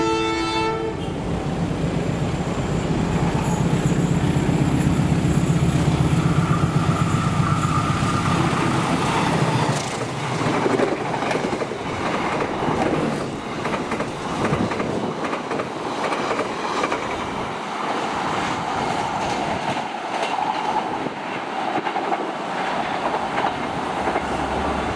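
A train rolls past on an Indonesian railway line, loud and close, with a long blaring horn at first giving way to a steady rumble and the rhythmic clatter of wheels over rail joints.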